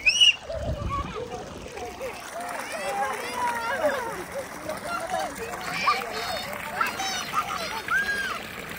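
Rainwater flowing and splashing across a farm garden after heavy rain, a steady close wash of running water with splatter, a brief thump near the start and children's voices chattering over it throughout.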